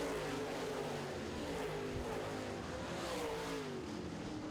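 Late model race cars roar past in a heat race, a steady loud engine drone with rising and falling pitch as several cars pass, continuous with no pauses.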